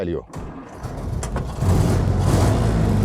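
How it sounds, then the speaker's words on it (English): An old Soviet-built Ford Model A engine cranks with its foot-pedal starter and catches, settling into a steady low running rumble that grows louder near the end of the short stretch. "we start the engine with a starter, a foot pedal"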